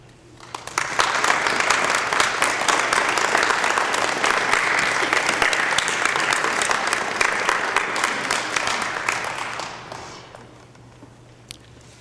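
An audience at a charity's inauguration ceremony applauds its volunteers and directors, with dense sustained clapping for about nine seconds before it fades out.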